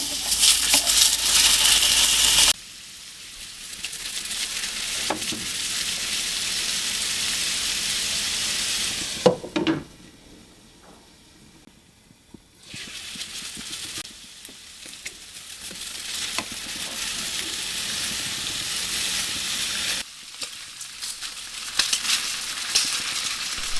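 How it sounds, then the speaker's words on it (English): Pork belly cubes sear in a dry pan with no oil, rendering in their own fat. A loud, dense sizzle rises and falls as the pieces are moved, dropping to a quieter hiss for a stretch before surging again. "start searing all the pork cubes"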